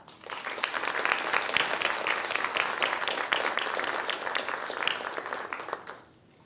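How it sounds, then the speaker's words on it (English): Audience applause at a college honor society induction ceremony, dense and sustained clapping from many people for about six seconds before cutting off sharply. "So let's give them a round of applause."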